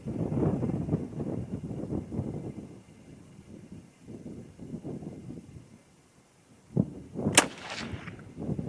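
A Seekins Precision Havak Hit rifle fires a single sharp, loud 129 grain shot on an outdoor 100-yard range, a crack followed by a brief rolling echo, after a stretch of wind and low background rumble.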